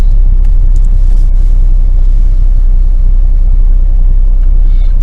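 Deep, steady rumble of a three-cylinder car engine heard from close inside the vehicle, loud and continuous with a constant low drone.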